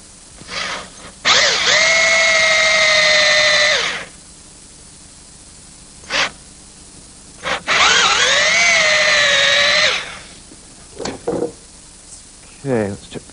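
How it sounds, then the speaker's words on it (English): A power drill boring through metal at rivets whines at high speed in two long bursts of about three seconds each, with short clicks and handling noises between them. "And I'll do that with a drill."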